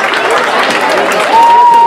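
Loud, dense crowd cheering and applause at the 2019 PSA awards dinner for a player being honored, a continuous roar of clapping and voices that holds steady and close throughout.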